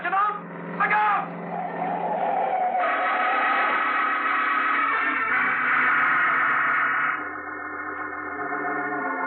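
A radio drama sound effect of a car engine roaring close and skidding, with a sustained tonal screech and engine hum, preceded by brief shouting.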